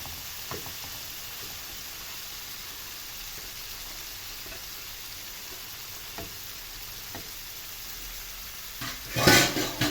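Liver sizzling in a pan, a steady hissing fry at moderate level with a few soft clicks, ending in a louder burst of spattering near the close.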